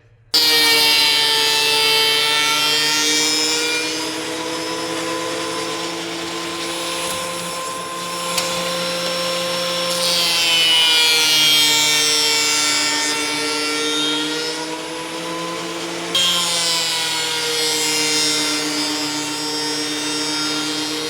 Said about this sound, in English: I'm going to run this through the planer to get it to where this piece is about 13/16 thick